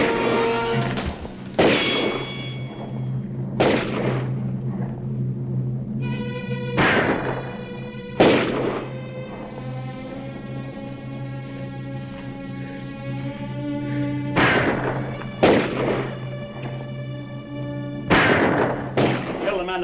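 Repeated gunshots ring out in a western film shootout, loud sharp cracks spaced a few seconds apart, each followed by a ringing tail over a steady musical score, with a voice heard briefly between shots.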